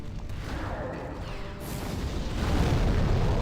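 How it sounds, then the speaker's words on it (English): An explosion booms in the Demon's Souls video game, a dense rumbling blast that builds and stays loud through the end, with no voices. "That's an explosion."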